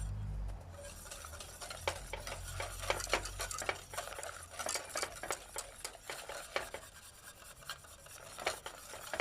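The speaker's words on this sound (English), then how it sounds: "But you got to stir." Semolina cooks in milk in a pot, stirred continuously with a utensil that scrapes and rubs in a quick, steady rhythm, close and fairly quiet, with no voices.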